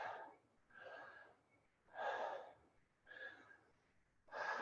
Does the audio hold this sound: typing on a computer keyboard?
no